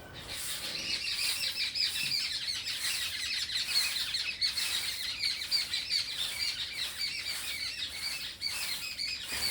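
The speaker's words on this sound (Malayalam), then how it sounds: "കിളികളുടെ ഒരു ബഹളം കേൾക്കാൻ എന്താ രസമെന്നറിയോ എല്ലാം കൂടെ കൂടിക്കിടന്ന് ചിലയ്ക്കുവാണേ" A dense chorus of many birds chirping and twittering continuously in a village yard, bright and busy throughout with no voices.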